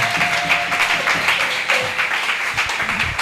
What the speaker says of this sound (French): Est-ce que nous pouvons l'honorer par les acclamations?